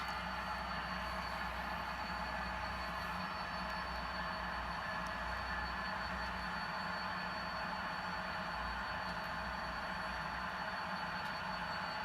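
A model CSX train runs on a layout, producing a steady, unbroken mechanical rumble and hum that stays level throughout with no talking.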